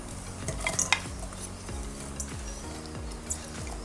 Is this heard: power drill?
no